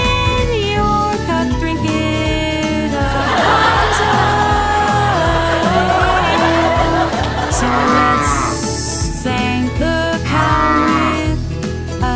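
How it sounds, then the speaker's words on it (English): A cow moos in long, sustained low calls over a steady rhythmic musical backing with beats, the lowing carried through the whole stretch and loud in the mix. "Moo, hear the cow giving milk"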